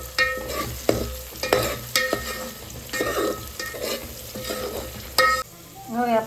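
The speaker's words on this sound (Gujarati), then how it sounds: "વટાણા ચડી ગયા પછી આપણે નાખી દઈએ લસણ." Green garlic tossed into cooked peas in a hot pan for an olo (baingan bharta) recipe, a steady sizzle with repeated clattering scrapes of a spoon stirring, close up and with no talking.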